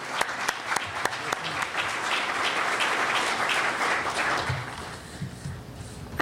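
A conference audience at a 2013 annual meeting breaks into sustained, dense applause welcoming a panel on industry and university collaborations, starting with a few distinct claps and swelling into a full round before tapering off.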